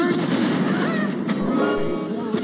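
Gunfire in the Far Cry video game, sustained crackling shots and bursts packed densely through the whole moment, loud and continuous with a voice speaking over the shooting.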